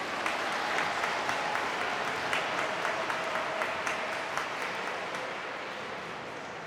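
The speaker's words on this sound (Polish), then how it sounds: "uczynimy to jeszcze gorącymi oklaskami" Warm, sustained applause from an audience at a regional gathering in Krzeszów, with many hands clapping steadily and evenly at moderate loudness, easing slightly near the end.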